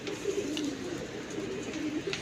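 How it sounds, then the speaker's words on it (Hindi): A pigeon coos outdoors, with several soft low rhythmic coos at moderate distance over light background noise. "ये कबूतर आया किसी का,"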